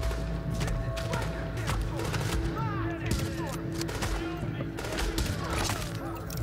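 Sniper fire crackles in The Division during a strike boss fight, with dense, loud bursts of shots and impacts and a voice talking over the action.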